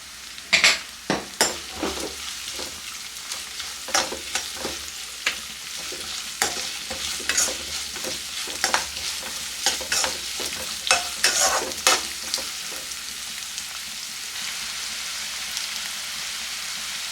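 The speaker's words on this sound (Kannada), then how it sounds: "ಈರುಳ್ಳಿ ಗೋಲ್ಡನ್ ಬ್ರೌನ್ ಆಗುವಷ್ಟು ಫ್ರೈ ಆಗಬೇಕು" Two finely chopped onions fry toward golden brown for garlic rice, a constant rain-like sizzle with frequent sharp, rhythmic spatula taps and scrapes close by, and no talking.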